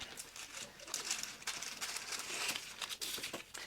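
Wide scrap paper being torn and crinkled by hand at a sewing table, a steady run of close, crisp ripping and rustling bursts lasting several seconds without speech.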